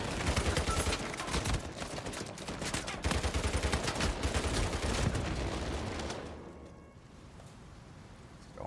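Rapid bursts of gunfire from an Enforcer weapon in a ranked video game match, dense sustained shooting for about six seconds before it drops to quieter background game sound.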